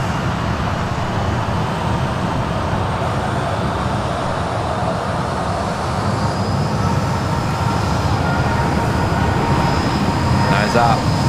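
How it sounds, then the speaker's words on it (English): Emirates SkyCargo Boeing 777 rolling for takeoff at Sydney Airport: a continuous broad roar heard from a distance, growing slightly louder toward the end, with a rising whine later on. "The 777 rolling now."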